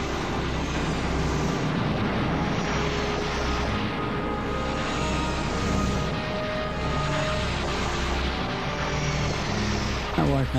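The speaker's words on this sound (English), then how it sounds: "Allied fighter planes keep the skies almost clear of German bombers" Propeller-driven German bomber aircraft drone steadily overhead during the D-Day landings at Juno Beach, a loud, continuous engine roar with slow swells, under a narrating voice.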